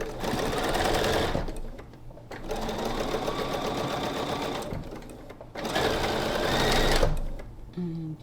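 A sewing machine stitches a quarter-inch seam on a quilt block in three sustained runs of fast, even whirring at close range, separated by brief pauses.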